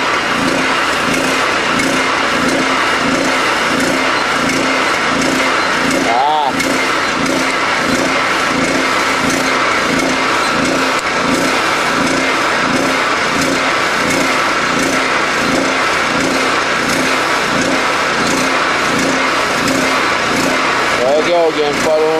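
A 3500 watt generator fitted with an HHO hydrogen fuel cell runs loud and steady nearby with its fuel cell disconnected, its engine drone unbroken apart from brief shifts in pitch, while someone talks over it.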